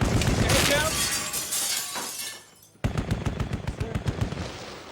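Heavy gunfire from a Navy SEAL assault in Grenada, dense rapid bursts and sharp cracks that briefly drop away and then resume in quick repeated shots, with voices mixed into the din.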